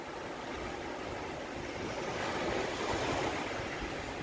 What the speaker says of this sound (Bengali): ঢেউগুলো চমৎকার ঢেউ উঠছে।